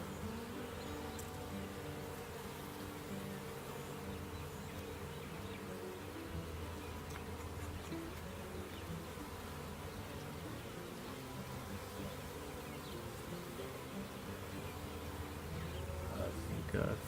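Honeybees hum continuously close by, one crawling on a hand with pollen on her legs; a steady buzzing drone runs throughout with a faint voice now and then.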